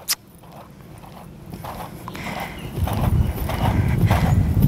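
A horse walks in a show-jumping training arena, its hooves falling in a steady, even rhythm that grows gradually louder and closer, with no talk over it.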